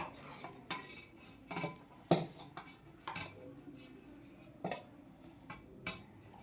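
Cooked rice is served onto a plate with a metal spoon, producing a series of sharp clinks and scrapes against the plate at irregular intervals, fairly close and quiet, with soft shuffling between hits.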